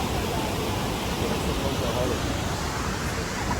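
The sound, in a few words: waterfall in Daintree rainforest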